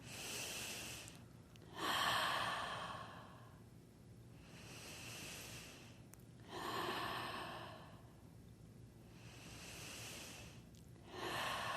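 Slow, deep breaths during a guided energy-medicine exercise, long airy inhales and exhales rising and falling in a steady cycle, close and clear with no talking.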